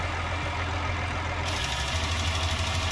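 A large tractor in Landwirtschafts-Simulator 19 idles with a steady, low, droning engine hum. The tone shifts slightly partway through and then holds constant, with no talking over it.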